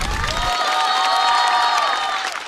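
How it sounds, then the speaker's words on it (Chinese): Audience applause at a stand-up comedy show, a full steady roar of clapping and cheering from a crowd, loud and sustained, with a short low thump at the very start. "掌声送给韩大狗。"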